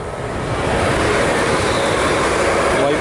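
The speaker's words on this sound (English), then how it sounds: "wait for the train to go" A train rumbles steadily past an allotment plot, a continuous broad roar with a faint rhythmic rail clatter that holds loud and near for the whole stretch.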